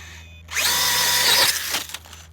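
A Proline Baja Pro X RC truck on a Capra bouncer revs loudly, its electric motor whining at high pitch for about a second as it slings sand, then tapering off.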